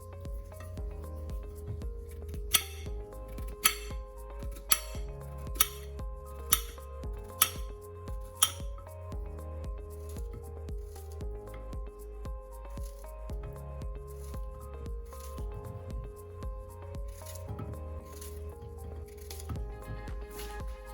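A knife slices through peeled plantain on a board, a string of crisp, evenly spaced cuts in the first half, then softer handling sounds over a low steady background hum.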